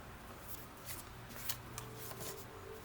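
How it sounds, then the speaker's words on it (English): Tarot cards shuffled by hand, a soft continuous riffling and flicking with faint crisp slaps, quiet and close, with no talking. "we'll do one more shuffle"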